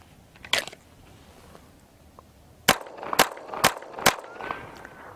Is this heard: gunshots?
yes